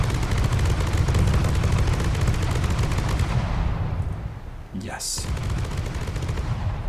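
Rapid twin cannon turret in From The Depths pounding out a dense, continuous stream of shots for several seconds, loud and near, then easing off as a brief voice cuts in before the fire resumes.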